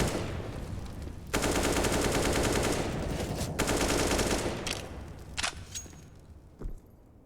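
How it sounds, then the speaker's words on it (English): An AK rifle in a professional Counter-Strike match fires two long, rapid sustained bursts separated by a brief pause, followed by a few sporadic shots fading out. "Two magazines of bullets pumped out of Valda's AK into the hut"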